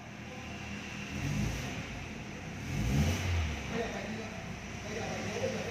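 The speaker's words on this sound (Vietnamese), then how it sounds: "đề nhẹ một phát đã nổ máy rồi" A 1987 Toyota Camry engine starts and runs at a steady mid-pitched idle with a couple of brief swells in revs, close by and continuous, with no talk over it.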